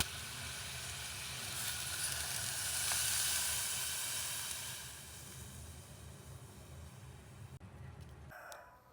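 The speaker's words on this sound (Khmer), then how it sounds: "លីងឆ្អឹងជ្រូកនឹងចុះឡើងមកសន្ទុះសិនល្មមមកវាក្រៀមបន្តិចចាំយើងចាក់ទឹកចូល" Pork bones fry in a pan until slightly crisp, giving a steady, loud sizzle and hiss that swells midway, then cuts off abruptly near the end.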